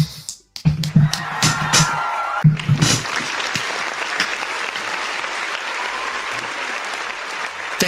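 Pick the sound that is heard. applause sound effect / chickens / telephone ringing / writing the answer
applause sound effect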